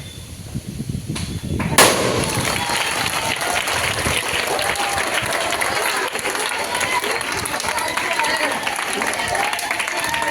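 Applause from a school classroom after a science experiment: dense, steady clapping that starts with a sharp burst and then keeps going, loud and even, with voices mixed in.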